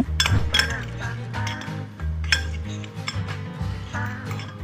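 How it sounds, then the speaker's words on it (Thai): Utensil clinking and scraping against a bowl as mala sauce is stirred with sugar, repeated rhythmic knocks and stirring strokes close by over steady background sound, with no talk. "แล้วก็คนผสมทุกอย่างให้เข้ากันนะคะ"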